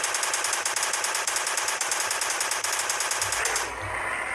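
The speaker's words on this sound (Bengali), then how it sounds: "এই মেশিন গান দিয়ে আগে মারতে হবে।" Rapid machine-gun fire in the Indian Bike Driving 3D video game, shooting at dinosaurs: a loud, steady automatic burst of closely spaced shots lasting about three and a half seconds, then cutting off abruptly.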